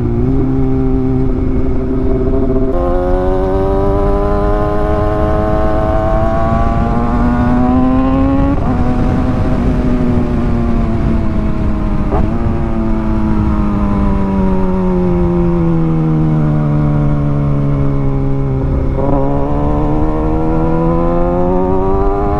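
A motorcycle exhaust drones loudly and continuously while the rider holds and varies the revs up to about 8,000 RPM, the pitch gliding up and down in long sweeps with no talk.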